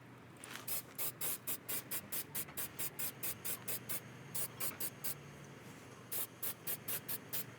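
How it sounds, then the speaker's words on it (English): Repeated short bursts of primer hissing from a spray can onto a BMW E90 brake caliper, fired in quick rhythmic pulses with brief pauses between them, close and fairly quiet. "now we're ready to spray primer"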